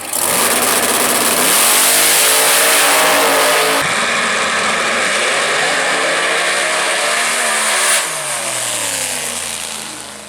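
2018 Dodge Demon revving hard at a drag strip launch, a loud, close engine roar rising in pitch with a brief drop near four seconds, another sharp shift around eight seconds, then fading slightly.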